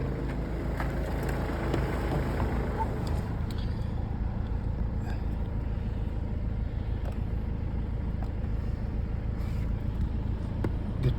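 Mercedes W204 car engine idling with the hood up, a steady close low rumble with a constant drone that stays even throughout.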